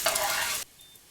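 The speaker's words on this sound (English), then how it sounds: "we're going to briefly saute your tortillas on both sides" Corn tortillas sizzle briefly in a hot pan, a bright steady hiss lasting about half a second before cutting off abruptly into quiet.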